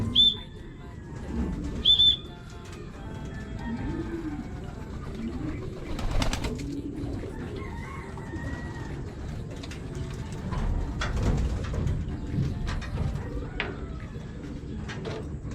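Racing pigeons coo in low, throaty rolls inside a loft, the cooing repeating steadily and close over a busy background, with a couple of sharp bird calls near the start and people talking faintly.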